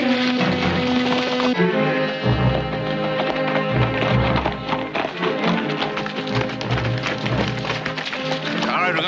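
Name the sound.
horses walking, hooves clip-clopping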